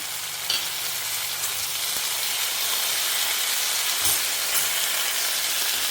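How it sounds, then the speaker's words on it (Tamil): Chopped tomatoes fry in a pan for a Tamil thakkali chutney, giving a steady, even sizzle and hiss throughout with a few faint stirring clinks, no voices. "இப்போ என்னென்னா தக்காளி நல்லா வதங்கட்டும்"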